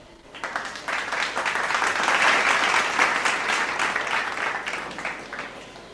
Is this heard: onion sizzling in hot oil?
no